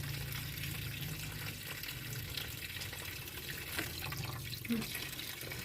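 Tap water runs steadily into a sink or basin where fresh, large river shrimp are being washed, a continuous close splashing wash with faint voices in the background.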